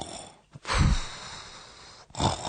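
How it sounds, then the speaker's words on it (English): A played recording of a listener snoring, with two heavy, rasping inhaled snores separated by a quieter stretch of breath. "Snoring is a problem"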